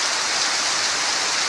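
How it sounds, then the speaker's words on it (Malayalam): Heavy, steady rain pours down in a continuous dense hiss, loud and close, with no voices or other sounds breaking through. "ഇപ്പോഴും ആ ഒരൊറ്റ ലെവലിൽ തന്നെ മഴ ഇങ്ങനെ ശക്തമായി നിൽക്കുന്നു"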